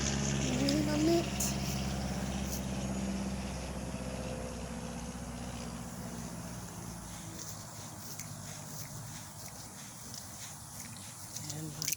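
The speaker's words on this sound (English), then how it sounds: "Sorry about that plane." A plane passes low over a garden near an airport, a broad engine roar strongest at the start and fading gradually over the following seconds, with a person speaking over it.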